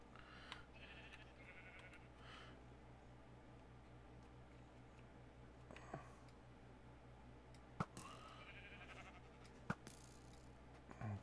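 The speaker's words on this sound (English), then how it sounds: "Blue sheep, stay there." A blue sheep in the Minecraft video game bleats faintly a few times over a quiet game background, with soft clicks and brief sharp game noises breaking the near-silence.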